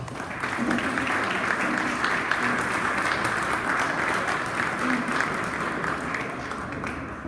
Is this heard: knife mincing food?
no